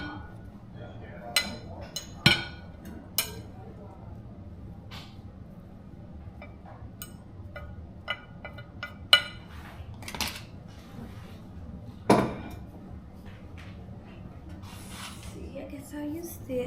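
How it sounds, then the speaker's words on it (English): Sausage and breakfast ingredients are stirred together in a bowl, with sporadic clinks and scrapes of a utensil against the dish over a quiet background. "So we're also going to add in the sausage, and then we will mix all of this together all at once."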